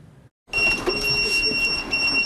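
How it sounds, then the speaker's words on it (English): A steady electronic alert beeps continuously with high-pitched tones after a brief silence, fairly loud over a background hum. "Beeping is the alert"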